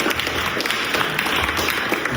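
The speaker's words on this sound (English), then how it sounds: "Round of applause again for our panelists." An audience applauds panelists after a launch event panel, with dense, even clapping that continues steadily and close with no break.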